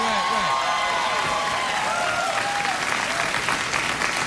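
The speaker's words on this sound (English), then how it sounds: "I'd just like to thank the studio audience for that excellent clapping along with the email jingle" A late-night talk show studio audience claps and cheers, the applause dense and loud, with whoops and voices rising through it and a sliding musical tone audible in the mix.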